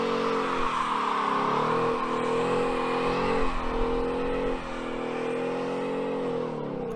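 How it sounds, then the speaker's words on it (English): A car engine drones and revs up and down in long rising and falling sweeps for a burnout, fairly close and loud, easing off toward the end. "We already got some locals here that are about to do some burnout things."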